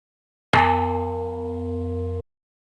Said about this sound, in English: Hollow metal tube echo.